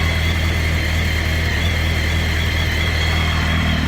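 A 2004 Kawasaki ZX10R superbike engine idles, a loud, smooth and steady running tone with a constant low hum, heard up close and alone without any talking.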